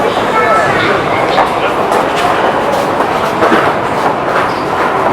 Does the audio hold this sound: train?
yes